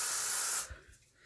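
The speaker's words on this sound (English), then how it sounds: "the spray that I use for testing the detectors is on the other side of the room" An aerosol smoke-detector test spray gives one loud, close hiss lasting just over half a second, then stops abruptly, leaving quiet room noise.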